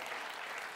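Audience applause at a children's magic show, a dense steady patter of clapping filling a short moment with no voices on top.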